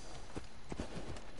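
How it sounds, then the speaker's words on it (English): Horse hooves clip-clop in Assassin's Creed Odyssey, a few soft, spaced thuds of a horse walking, faint and fairly distant against steady game ambience. "Horse!"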